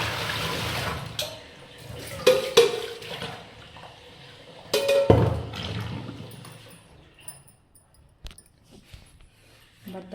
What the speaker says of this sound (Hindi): और भाई बर्तन वगैरह भी धो रहे हैं